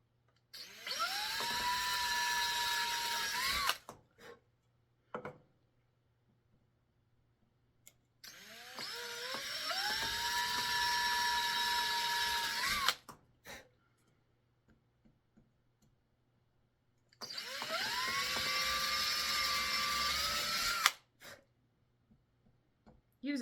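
A power drill bores holes into a wooden flute kit in three sustained whining bursts, each spinning up to a steady pitch and stopping, with quiet clicks and a low hum between runs.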